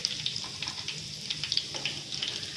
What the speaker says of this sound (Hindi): और इसी तरह हम सारे कबाब जो हैं वो फ्राई कर लेंगे